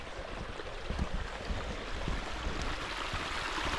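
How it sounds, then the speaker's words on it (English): Water rushing at Oakley Mill waterfall in the Shropshire Hills, a steady broadband roar of flowing water with small splashes, heard alone at moderate distance. "There, look. That's the waterfall."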